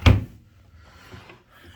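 A drawer in a Hilton hotel room in Arlington, Virginia, shuts with one loud wooden thunk, followed by quieter sliding and rattling as it moves again.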